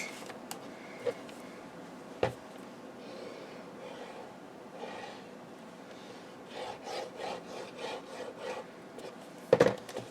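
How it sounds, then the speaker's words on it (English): Paper being burnished down by hand for a 6 x 6 album, heard as close, dry rubbing strokes in an uneven rhythm, with a few sharp taps among them. "Burnish that down like so. Do the same for this side."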